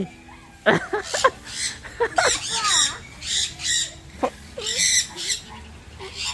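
Loud, harsh squawks from a large bird, a parrot or hawk, repeat in bursts, close by, with brief screeching calls and some faint voices mixed in.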